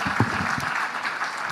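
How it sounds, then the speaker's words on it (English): Audience at an India Today education conclave applauding the minister, a dense wash of clapping that holds steady at moderate loudness throughout, with no voices over it. "let's give the minister a very, very warm round of applause for this"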